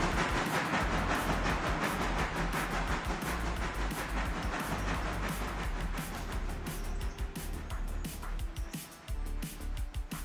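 A train making its last few shunting maneuvers, with a continuous rolling rumble and rattling wagon clatter that stays heavy and steady throughout.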